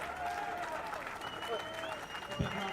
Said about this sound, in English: applause for Sri Lanka Army, winners of the Open Men's Scull.